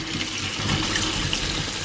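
Tap water running steadily into a sink while shallots are rinsed for pickled onions, a continuous close, full splashing hiss with no talking.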